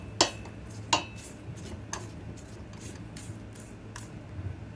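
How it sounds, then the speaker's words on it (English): A utensil stirring and scraping flour, milk and yeast into dough in a mixing bowl, with two sharp clinks against the bowl and then a string of lighter, irregular taps and scrapes, close and alone. "so you can kind of see how it goes into the mixing bowl, and we're going to mix this up"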